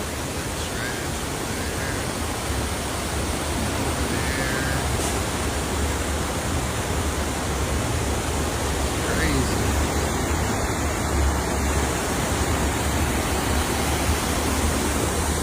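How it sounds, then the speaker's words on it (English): Floodwater rushes loudly across the Las Vegas Strip after rain, a dense, continuous roar of churning water that fills the scene close by, with people talking faintly over it. "When it rains in Las Vegas, here on the Las Vegas Strip, here at the link, as you can tell, this place gets flooded"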